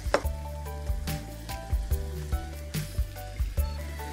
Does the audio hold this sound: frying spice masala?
yes